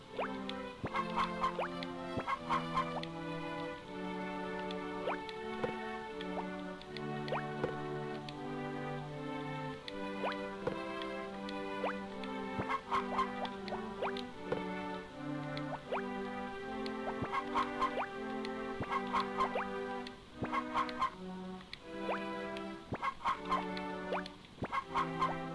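Chickens cluck in the farming game Harvest Moon: Friends of Mineral Town, short scattered clucks and pecks popping up irregularly over a steady, bright looping melody that fills the whole stretch.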